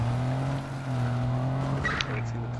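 A pickup truck in Watch Dogs 2 drives with a steady low engine drone, and a brief tire skid squeals near the two-second mark.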